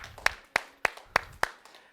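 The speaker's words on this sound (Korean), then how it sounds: "하나님께 영광의 박수 올려드리겠습니다." A few sharp, separate claps at a children's elementary-school Sunday worship service in a church, about five evenly spaced claps over two seconds, fairly faint and with no one talking.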